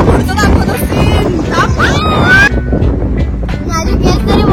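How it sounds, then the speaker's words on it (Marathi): Strong wind buffets people standing up through a car sunroof on the drive to Raireshwar fort near Bhor, Pune, a loud continuous roar on the microphone while people talk and laugh over it. "वारा येतो."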